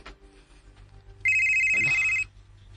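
A mobile phone rings with an incoming call, a single loud electronic ringtone burst lasting about a second amid quiet room sound.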